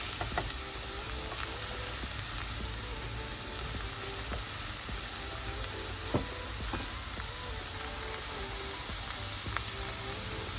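Little pumpkins and corn fry in a pan with a steady, continuous sizzle while a utensil scrapes and stirs in scattered light knocks, close and fairly quiet, with no voices.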